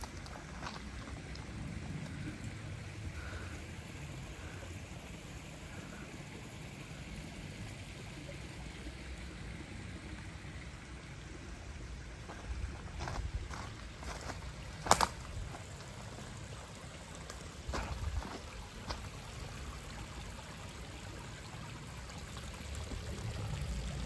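Mountain water flowing steadily in the open, a constant broadband rush with a few faint knocks and clicks, no voices.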